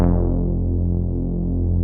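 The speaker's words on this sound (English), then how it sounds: "A really fat analog bass step made in Serum." A fat, analog-style sustained bass synth note made in Serum, from the Pivotal preset with two saw wavetable oscillators, holds steady and loud for about two seconds with a rich, buzzy low tone and no voices.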